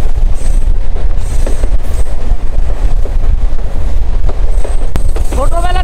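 Passenger train running from Chattogram toward Bandarban through green fields near Bengura, with a loud steady rumble of wheels and carriage noise throughout and brief squeals near the end.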